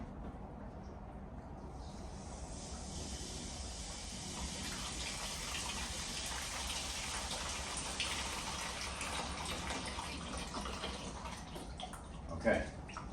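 Water rushes and splashes steadily as it is flushed through the chamber side of a car radiator, a continuous hissing gush at moderate distance, with a brief knock near the end.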